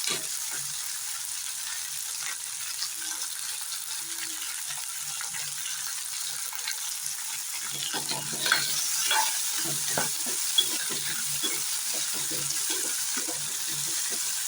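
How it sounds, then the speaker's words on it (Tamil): Curry leaves, garlic, onion, ginger and coriander stems sautéing in a pan for a country chicken curry, a steady close sizzle with stirring scrapes growing busier toward the end. "கொத்தமல்லி தலை நல்லா சேர்த்து வணக்கி விட்டுக்கலாம்"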